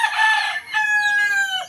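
Rooster at a backyard game farm crowing once, loud and close, a drawn-out strained call that breaks briefly then rises and trails off.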